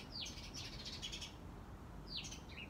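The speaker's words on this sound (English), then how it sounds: "these birds are tripping. They're over there fighting." Small birds squabble outdoors with sharp, quick chirps in two short bursts, fairly near but quiet, over a soft background hiss.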